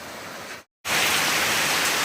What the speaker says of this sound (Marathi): परवाच्या रात्री जो पाऊस सुरू झाला तो कंटिन्यू चालू आहे